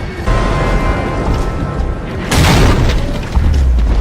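Mortar explosions in Gears of War Judgment: a loud, deep boom rolls out over a continuous rumbling battle background, with another low thud near the end.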